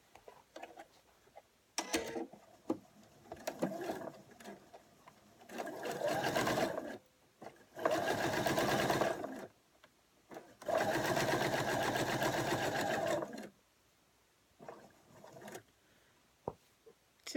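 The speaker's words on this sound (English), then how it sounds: "Start stitching from here and go to the very end." A sewing machine stitches freezer-paper-pieced quilt fabric for a leaf block in several bursts of rapid whirring, separated by pauses with light handling clicks, close and fairly quiet.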